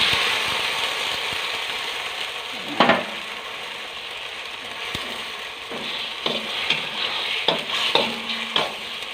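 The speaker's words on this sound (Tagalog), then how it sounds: "So, ilagay na po natin si sardines." Sardines frying with golden-brown garlic in a pan, giving a steady broadband sizzle with several sharp scraping clicks of a utensil stirring, no talking.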